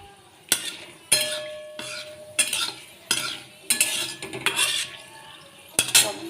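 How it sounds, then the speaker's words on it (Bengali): A metal spoon stirs black cumin, whole cumin and a dry red chilli tempering in a hot pan, giving repeated sharp scrapes and clinks against the pan over a faint sizzle, close up and without speech. "কালো জিরে আর গোটা জিরের ফোড়ন আমার দেওয়া হয়ে গেল।"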